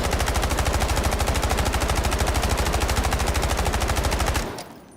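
A K437 rifle in the shooter game Delta Force fires one long, unbroken full-auto burst, each shot close and loud in a fast, even rhythm, ending abruptly as the sound fades.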